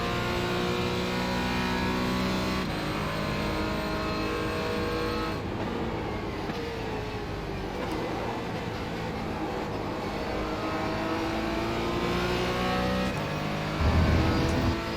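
A Porsche 718 Cayman GT4 Clubsport MR race car engine drones loudly and steadily in an iRacing sim at Silverstone, with pitch climbing and dropping through gear changes and a rougher burst near the end, heard without any voices.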